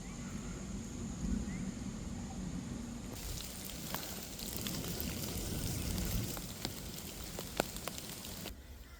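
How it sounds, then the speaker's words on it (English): Rain falls steadily outdoors during Cyclone Alfred, a constant hiss of drops with scattered sharper patters. It grows denser and louder partway through, then eases slightly at the end. "I'm not looking forward to walking back in that rain."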